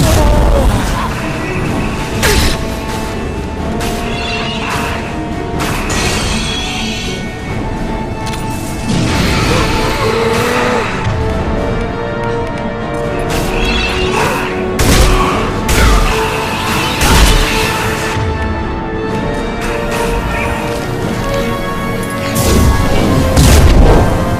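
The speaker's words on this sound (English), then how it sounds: "Firing a high-impact shot!" High-impact shots fire in Mass Effect 2 aboard the Collector Ship, heavy booming blasts and crashes repeating irregularly over a dense, loud battle din with mechanical clatter and occasional voices.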